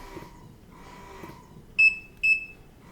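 An Idaho Jones Twain breast pump running in expression mode gives a faint, rhythmic motor hum in slow cycles, then two sharp, close electronic beeps in quick succession.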